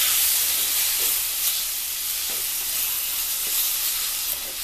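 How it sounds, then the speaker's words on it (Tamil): Chopped tomatoes with salt sauté in a pan for a rasam, giving a steady, close sizzle with soft bursts of stirring and no talk. "இதை வந்துட்டு நல்லா வதக்கிக்கோங்க."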